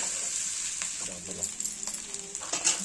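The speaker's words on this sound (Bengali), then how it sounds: "সবজিগুলো আমরা কড়ার মধ্যে অল্প তেল দিয়ে ফোড়ন দিয়ে এবার রাইস চালগুলো দিয়ে দেবো দিয়ে সামান্য হালকা হাতে রাইসগুলো নেড়ে নেব" Rice sizzles in a wok with lightly spiced vegetables and a little oil as a spatula gently tosses it, giving soft scraping strokes over a continuous hiss.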